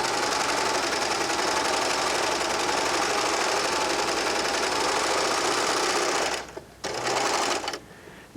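Baby Lock serger sewing a stretched lettuce edge on knit fabric, a fast steady mechanical whirr that runs loud and unbroken, then stops and restarts briefly near the end.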